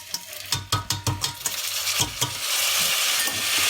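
Egyptian rice with vermicelli being stirred and fried in a pot, a quick run of spoon scrapes and clinks against the metal over a rising, steady sizzle that takes over toward the end, loud and close.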